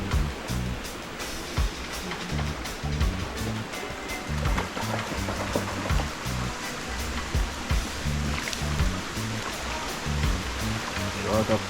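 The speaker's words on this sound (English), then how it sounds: "There's the water coming out of the mountain." Water flows out of a mountain inside a cave in Westmoreland where people collect drinking water, a loud continuous rushing and splashing that fills the space, with voices talking over it.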